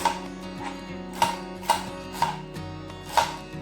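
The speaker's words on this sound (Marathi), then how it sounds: "भेंडीचा दोन्ही साईड एक साईड पुढची आणि मागची साईड दोन्ही साईडला कट करून" Okra pods have both ends cut off with a knife on a board: about six crisp chops at uneven spacing, close and clear over a faint background hum.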